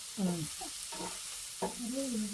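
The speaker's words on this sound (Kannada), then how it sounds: "ಟೊಮೆಟೊಕಾಯಿ ಮತ್ತೆ ಉಳ್ಳಾಗಡ್ಡೆ ಎರಡು ಫ್ರೈ ಮಾಡಕತ್ತಳ" Tomato and onion fry in a pan in a home kitchen, a steady sizzling hiss broken by stirring scrapes, with a few faint tonal squeaks in the background.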